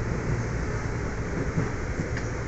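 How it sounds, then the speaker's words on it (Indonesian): Steady rumbling hum of a Jakarta commuter train in motion, a continuous rolling drone from inside a carriage with no talking. "Akhirnya naik kereta lagi setelah sekian lama nggak naik kereta."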